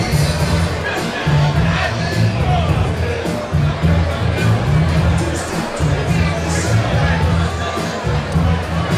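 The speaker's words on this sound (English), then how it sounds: "A good local crowd behind him." A local crowd at an amateur boxing event, a loud, continuous hubbub of cheering and chatter, with a voice talking over it throughout.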